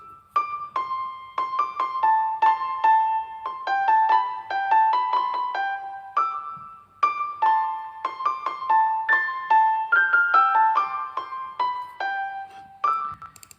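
A bright, bell-like plucked counter-melody from an Omnisphere LA Custom Club preset, with the lows and some mids cut and Valhalla Vintage Verb reverb, plays a steady rhythmic pattern alone at moderate level with a soft trailing wash.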